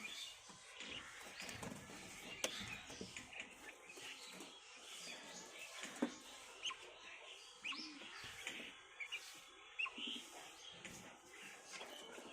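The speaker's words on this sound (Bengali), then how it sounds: "আর এখানে আছে আমার হচ্ছে এই বদ্রি পাখিগুলা" Budgerigars kept at home alongside pigeons and quail chirp in a faint, busy chatter of short tweets and calls, scattered irregularly over a soft background.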